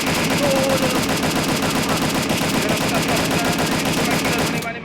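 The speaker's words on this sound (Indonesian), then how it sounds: "X Aziz Killer menembak dan Rice Killer di sisi atas" Rapid automatic gunfire from a Free Fire battle royale tournament match rattles loud and continuous in dense repeating bursts, fading slightly at the very end.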